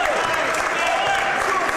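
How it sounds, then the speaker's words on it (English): Basketball fans at an Alumni Night college game giving a steady round of applause, a dense crowd clapping continuously throughout the short stretch. "the fans here on Alumni Night giving a nice round of applause to Stonehill"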